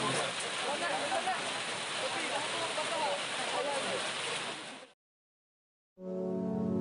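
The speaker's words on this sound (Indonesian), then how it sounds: "hujan turun dengan cepatnya" Steady, dense rain pouring down loudly for about five seconds on the trail of Mount Kerinci, then a brief silence before another burst of noise.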